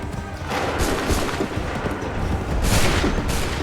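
Musket volleys in the video game Assassin's Creed III, repeated crackling bursts of gunfire over a loud, dense battle din, rising to a strong volley near the end.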